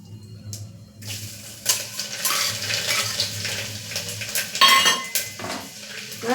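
Curry leaves and chopped garlic are stirred in a pan over a low flame for a green cowpea and potato curry, giving repeated close clinks and scrapes of a metal spoon against the pan with a faint sizzle underneath.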